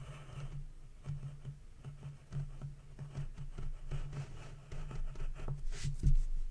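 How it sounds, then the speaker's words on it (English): Pencil on paper sketching the outline of a cardinal's head, soft scratchy strokes in short irregular bursts, quiet and close with no talking. "We're going to take our pencil and we're going to draw the bird's head."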